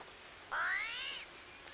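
An armadillo in the jungle survival game Green Hell gives a single cat-like wailing cry, rising then slowly falling, lasting under a second against quiet ambient background.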